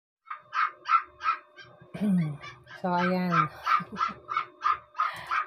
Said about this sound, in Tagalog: May ngayong aso